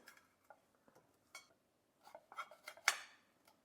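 A knife trims the ends off a cucumber in a quiet kitchen, giving a few faint, scattered cutting taps and clicks with a slightly busier cluster near the end. No one speaks.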